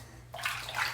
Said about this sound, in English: Just rinse my hands off there like that.